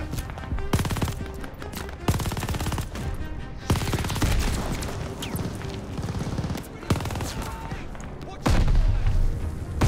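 Heavy gunfire in Call of Duty: Vanguard on PS5: loud, close automatic bursts and single shots packed densely throughout, with a voice speaking underneath.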